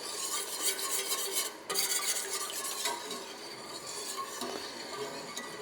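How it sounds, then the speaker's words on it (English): A whisk stirs a thickening creamy turkey soup base in a pot to work out lumps, a continuous scraping, swishing wash with small clinks against the metal, close and unbroken by speech. "We'll mix that again with the whisk."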